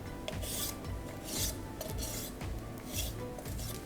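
A knife scrapes and rasps along the bones of a chicken carcass while trimming off the breast, quiet repeated rubbing strokes in a rough rhythm, close up with no talking.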